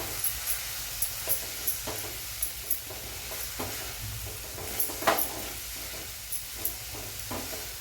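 Gram flour stuffing mixture stirred in a hot pan, a faint sizzle under regular scraping strokes of a spoon against the pan, roughly one every half second.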